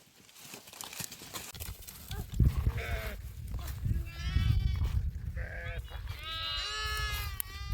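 Sheep and their lambs on a hillside route in eastern Nepal bleat several times in close succession, loud and near, with people talking and some rustling around them.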